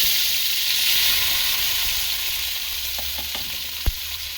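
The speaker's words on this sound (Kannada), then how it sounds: "ಟೊಮೆಟೊನ ಹಾಕ್ಕೊಂಡು ಚೆನ್ನಾಗಿ ಹುರಿಬೇಕು." Tomatoes fry in hot oil for a tomato thokku, a steady loud sizzle and hiss with a few faint stirring clicks and one sharp knock near the end.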